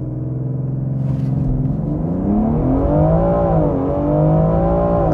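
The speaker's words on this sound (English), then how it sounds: "Hard on the brakes, full throttle." A BMW X3 M SUV engine revs hard under a full-throttle launch, a loud rising then surging roar that climbs in pitch through the gears, heard from inside the cabin without talking.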